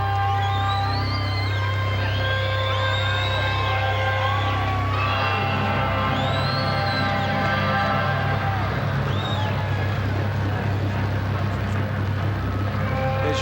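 A boxing arena crowd at a heavyweight bout roars and cheers continuously, with whoops and shouts rising over a steady low hum of many voices, loud and dense throughout.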